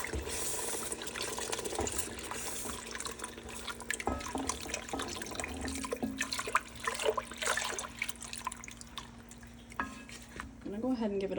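Four and a half cups of whole milk pour into a cooked roux in a pot: a steady liquid splash and gush runs throughout, with occasional clinks of utensils and the pan.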